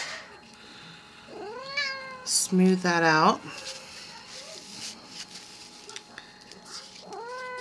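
A house cat meows several times nearby in a crafting workspace, drawn-out and fairly loud, including one whiny caterwaul, while a person talks in between.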